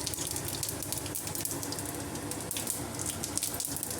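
Mustard seeds and cumin sizzle in hot oil with a dense, continuous crackling hiss and fine popping spatters, close and steady throughout, with no voices.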